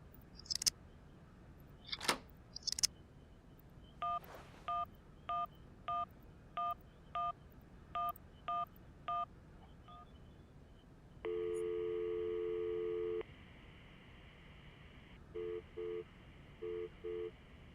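In the game Syberia, a phone number is keyed in as a run of evenly spaced dial-tone beeps after a few clicks, followed by a long steady tone and then short beeps that sound like a busy signal.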